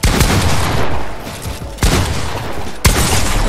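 Gunfire in a video game box fight cracks out in a dense burst, then two sharp single shots follow. Loud and close, with no talk over it.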